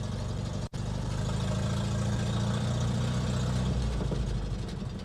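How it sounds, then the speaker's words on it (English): Engine of an International Scout Terra running steadily while driving in first gear, a loud continuous low rumble with a slightly clacky character, close and unbroken apart from one brief dropout near the start. "Engine is kind of clacky, but it could be, you know, needs an oil change."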